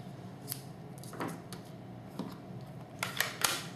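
Scissors snip through ribbon during a card-making session, a few faint, quick cuts spread out, with a cluster of sharper snips near the end, no one talking.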